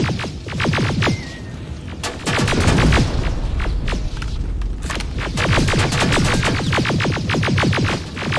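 Dense bursts of automatic gunfire crackle through a firefight in the Terminator: Resistance video game, rapid volleys stacking into a loud, nearly continuous barrage with heavy booming impacts underneath.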